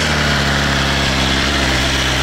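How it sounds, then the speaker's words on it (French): Four-cylinder engine of a 2021 BMW S 1000 XR motorcycle running at low revs close by, a dense steady idle rumble with no talk over it. "Et déjà à bas régime, il fait un bruit important le moteur."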